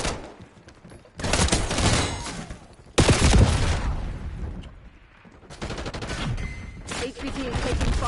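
Heavy bursts of automatic gunfire rattle in a Call of Duty Black Ops 6 match, rapid volleys and thudding shots in loud clusters, briefly easing before erupting again, with game voices faintly mixed in.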